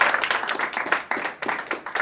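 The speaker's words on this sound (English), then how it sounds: "Give Sanka a round of applause, right?" A small audience claps for a man at an evening gathering, a short round of scattered, fairly quiet hand claps with uneven rhythm and brief gaps.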